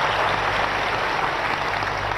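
A church congregation claps together, a dense, steady wash of applause filling the whole short stretch, with no voice above it.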